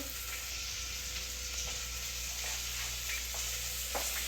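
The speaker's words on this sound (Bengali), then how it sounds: "এখন হচ্ছে পেঁয়াজ ফ্রাই করছি" Onions fry in a pan with a quiet, steady sizzle and occasional soft stirring clicks, a low continuous crackle with no talking.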